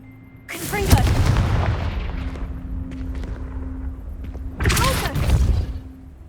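Two booming blasts from the Confringo explosion spell in Hogwarts Legacy, each a loud rumbling burst with a long decaying roar, the first followed by lingering crackle and a steady low hum before the second hits.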